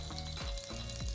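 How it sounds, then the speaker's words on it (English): Onions fry in a pan with a soft, steady hiss and sizzle, a short close stretch with a few low bumps from the cookware and no speech. "Now we will put onions."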